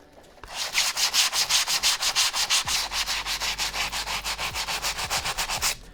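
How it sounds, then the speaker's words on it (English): A stiff bristle brush scrubs a sneaker midsole in steady, rapid back-and-forth strokes, about four per second, with a close, loud, rasping sound and no talking. "I am going to use the same stiff bristle brush to hit this midsole up"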